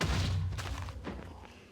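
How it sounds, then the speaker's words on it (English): A Minecraft TNT blast gives a low, heavy boom that rolls and fades over a second or two, loud at the start and then decaying. "it's kind of like a nuclear explosion"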